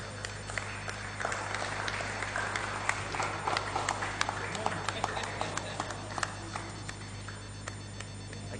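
An audience at a business summit claps in a scattered, continuous patter of applause, moderately loud in a large room, with a low steady hum underneath and voices mixed in.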